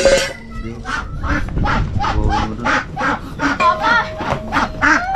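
Ducks call outdoors in a muddy setting, a run of about a dozen nasal honking quacks in an uneven rhythm, loud and close, with a person's voice briefly mixed in.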